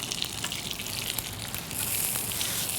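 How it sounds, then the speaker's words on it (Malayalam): A tempering of shallots, dried chillies and curry leaves fries in hot oil, producing a dense, steady sizzle close by that grows slightly louder and brighter toward the end, with no talking. "നമ്മുടെ താളിപ്പ് നല്ല ഫ്രൈ ആയിട്ടുണ്ട്"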